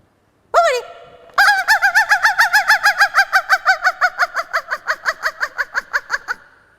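A human voice mimics a hen: a sharp squawk, then a long run of rapid, rhythmic clucks that gradually fade.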